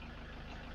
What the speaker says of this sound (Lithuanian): Variklis užkurtas.